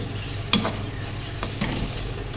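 Methi leaves roasting in oil sizzle steadily in a pan, with a few sharp scraping stir strokes cutting through the continuous frying hiss; no talking.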